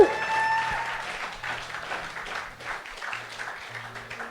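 A church congregation at a Sunday service applauds God, with steady, sustained clapping from many hands at middle distance that tapers slightly toward the end.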